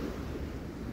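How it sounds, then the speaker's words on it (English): Ocean waves rolling onto a Southern California beach, a steady low wash of surf with wind rumble, fairly quiet and continuous with no voices. "Love watching the waves. Big waves, man."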